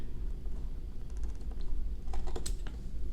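Scissors snipping through a braid of T-shirt fabric, a few quick, faint clicks and a louder cluster of cuts toward the end over a low steady background hum.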